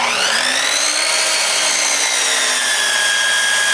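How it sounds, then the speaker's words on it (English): A miter saw cuts a wooden board at a 30-degree angle for a DIY solar water heater, giving a loud, close, continuous high whine whose pitch slowly sags as the blade works through the wood. "we'll go cut that on the miter saw."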